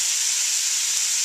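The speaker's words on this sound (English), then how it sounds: "I started cooking it on the cast iron griddle that I use for this" Bulgogi meat searing on a hot cast iron griddle, a steady bright sizzling hiss held evenly and close throughout, with no talk.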